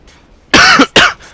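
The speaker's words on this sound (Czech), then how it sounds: "V každém případě si odkašlu, nebojte se, nekašlu na to, jenom si odkašlu." Someone clears their throat loudly and close, two harsh raspy bursts in quick succession followed by a faint trailing breath.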